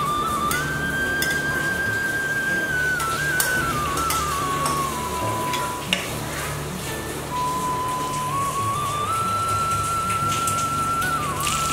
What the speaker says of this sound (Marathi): तेल थोडंसं गरम झालं त्याच्यामध्ये हे मॅरिनेट झालेलं मटण आपण घालून